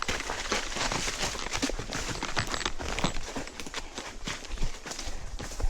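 Horse hooves clip-clopping steadily along a slick trail, close and fairly loud, with a quick uneven rhythm of many footfalls over outdoor rustle.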